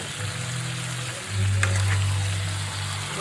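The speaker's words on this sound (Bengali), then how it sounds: "ভালো করে এইভাবে নাড়াচাড়া করে আমাদের মাংসটা করে দিতে হবে" Chicken pieces sizzle loudly in oil in a slippery wok while being stirred, a steady close frying hiss that swells after the first second with a brief scrape of stirring.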